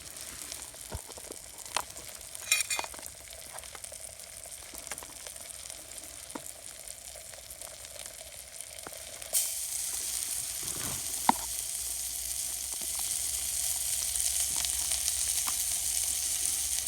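Chopped home-grown tomatoes fry in a Trangia camping pan in the woods on a rainy day, a soft steady sizzle with scattered small pops that swells louder and brighter partway through.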